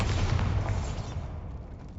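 A Bombarda blasting spell detonates in the Hogwarts video game, a loud, booming explosion striking at once and then rumbling away into a fading, noisy decay.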